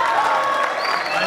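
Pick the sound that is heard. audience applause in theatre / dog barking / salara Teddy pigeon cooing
audience applause in theatre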